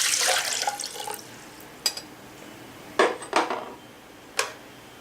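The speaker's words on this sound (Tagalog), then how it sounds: "So, first, lagyan natin yung ating water." Water pours into a pot for making oatmeal, a brief steady rush at first, followed by a few sharp clinks of cookware and soft drips in a quiet kitchen.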